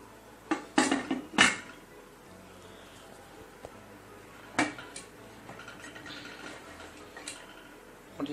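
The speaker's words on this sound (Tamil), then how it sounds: "குக்கரில் வச்சு மூடிட்டு" Pressure cooker lid being closed over steamed adai (karadai), with several sharp metallic clanks and clatters close by, a cluster early on and another strike midway, then quiet kitchen ambience.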